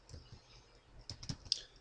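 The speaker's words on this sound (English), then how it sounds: "click in the formula bar and just start typing" Keyboard typing while entering a chart title in an Excel 2010 formula bar, with a few quiet scattered key clicks and a couple of sharper taps near the end.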